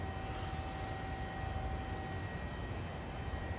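Airliner engines droning steadily in cruise inside a flight simulator game, a constant broadband roar with a faint high tone and no other sounds.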